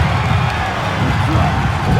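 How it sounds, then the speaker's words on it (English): Packed wrestling crowd on its feet in applause at a Ring of Honor show, a dense sustained roar of cheering and shouting with no break, loud and enveloping. "this crowd is on their feet in full appreciation"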